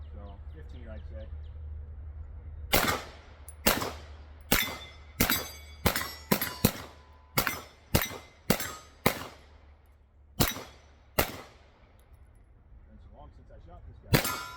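Rounds fired at steel targets about 15 to 20 yards away on a shooting range ring out as a dozen or so sharp gunshots with metallic clangs, in irregular quick succession, loud and close.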